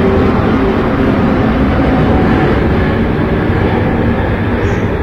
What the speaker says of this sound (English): And there's a plane.